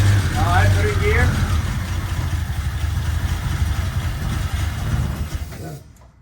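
The engine of a Jeep Comanche truck that has been sitting rumbles at a steady idle and is shifted into gear, a low, continuous drone with a brief voice near the start before it fades at the end.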